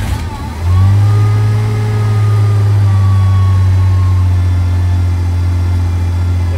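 A rebuilt Ford 300 inline six catches and settles into a loud, steady running drone close by on its first start, with no talk over it.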